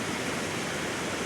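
A mountain river at a crossing in the Scottish highlands rushes in a dense, unbroken roar of flowing water, loud and close with no other sounds.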